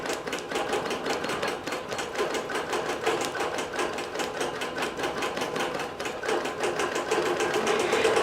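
A long arm quilting machine stitching a quilt gives a fast, even mechanical clatter, the needle strokes pulsing rapidly and steadily up close, with no voices.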